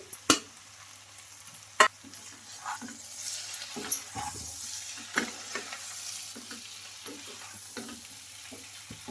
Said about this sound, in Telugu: బాగా కింద నుంచి పైన వరకు ఇలా కలిపేసుకోవాలి